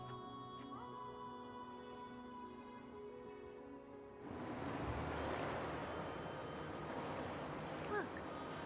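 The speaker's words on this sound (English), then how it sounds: "Look, the water is going down." Water draining away in the video game Wuthering Waves: after a few seconds of quiet tonal hum, a broad rushing, churning wash of water swells in and keeps going steadily, with a brief louder surge near the end.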